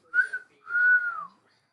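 A person whistles to imitate a referee blowing the whistle at a football match: one short blast and then a longer, sliding tone, close and clear with no other sound.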